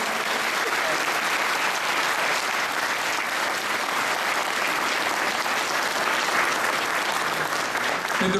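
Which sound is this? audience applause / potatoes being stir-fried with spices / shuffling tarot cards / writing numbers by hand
audience applause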